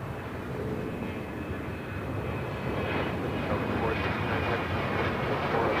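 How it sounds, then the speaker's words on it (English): A Delta Air Lines Boeing 767-400ER arriving at LAX from Atlanta, heard as a broad jet engine roar that swells gradually as it approaches, with no talk. "Here we have Delta Airlines Flight 898 coming in from Atlanta, Georgia on a"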